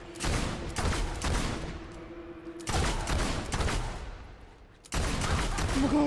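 Gunfire in the video game Fable II comes in three rapid, loud bursts of repeated shots, each followed by a decaying echo and a short pause before the next volley.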